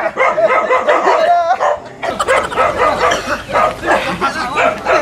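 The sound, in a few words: dog barking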